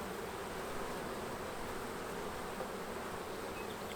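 Honey bees swarm over a brood frame of fresh new wax in a single brood chamber hive, a dense, steady buzzing hum that fills the whole stretch without pause.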